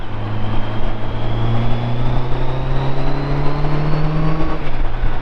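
Inline-four engine of a cheap auction motorcycle runs while being ridden, a loud, smooth, steady drone with rising pitch as it pulls, heard up close and continuously without talking.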